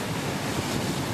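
Open-sea waves churned into white surf by a pod of common dolphins racing past, heard as a dense, continuous rushing roar of water and wind, loud and unbroken.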